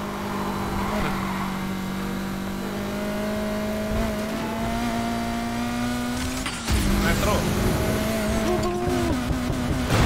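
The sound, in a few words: car handbrake drifting in video game Need for Speed Heat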